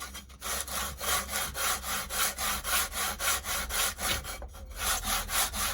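A wooden guitar top brace is sanded to a curve with steady back-and-forth strokes, about two per second, that make a loud, close, rhythmic abrasive rasp with a brief pause near the end.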